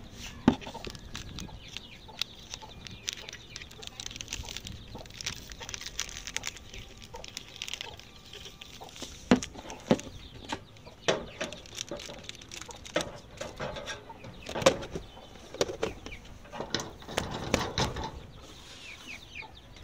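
Young chicks peep and cheep in scattered, irregular bursts at close range, with soft clicks and shuffling between calls and no talking.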